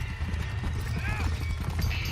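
A horse's hooves clip-clop in rapid rhythm in Red Dead Redemption, close and steady under a person talking, with a brief horse whinny in the middle.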